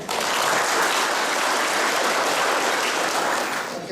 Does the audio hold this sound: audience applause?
yes